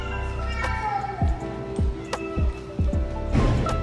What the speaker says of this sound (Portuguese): Estresse dos gatos.